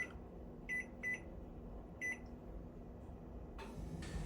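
An oven timer gets set to 45 minutes: a few short, faint electronic beeps from its keypad, spaced irregularly over a steady low hum, followed by a slightly louder tone at the end.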